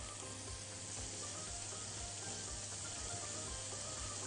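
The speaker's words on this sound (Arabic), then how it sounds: "بنشوح الثوم، عايزين لونه بس يبقى ذهبي فاتح" Garlic sizzles in a pan with a steady, dense frying hiss that continues evenly throughout, quiet and close, with no talking.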